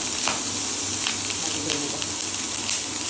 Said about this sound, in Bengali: গাজরটা একটু ভালো করে ফ্রাই করতে হয়